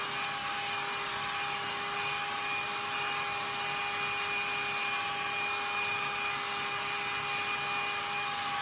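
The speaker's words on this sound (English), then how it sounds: "So just a few minutes with the hair dryer, and everything is pretty well dry." Hair dryer blowing steadily on a craft sunflower, a continuous even whoosh with a faint tonal whine, close and unbroken throughout.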